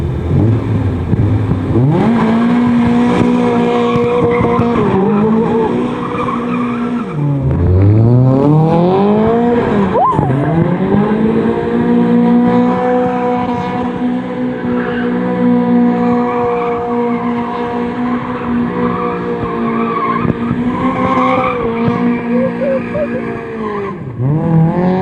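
Toyota AE86 drift car spinning donuts in a parking lot, its engine revving and falling with repeated swells as tires squeal and skid almost without pause, loud and close throughout.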